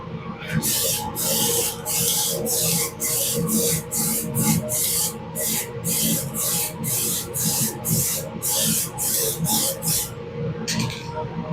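Lime green metal flake spray paint can laying down a light coat, a series of close short hissing bursts with brief gaps between, a voice faint beneath.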